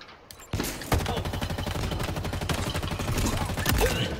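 Sustained automatic weapon fire in Halo Infinite, a rapid steady stream of shots starting sharply after a brief quiet moment and continuing loud and close throughout.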